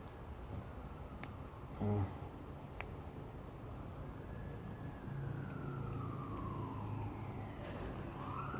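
Fire truck sirens wail faintly in the distance over a quiet garage hum, a long rising and falling tone that rises above the background in the second half, with a few sharp taps and a brief louder thump.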